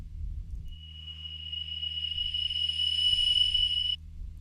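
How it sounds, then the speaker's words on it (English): A reversed, reverb-drenched pad built from a kombucha foley recording rises as a sustained tonal shimmer that swells and then cuts off abruptly, over a steady low hum. "I took the kombucha sound and made a pad out of it"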